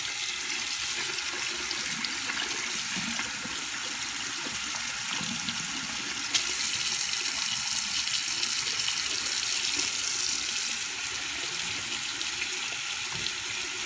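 A shower runs steadily, giving a continuous broadband hiss of water spray that grows slightly louder partway through and then eases back, with no voices.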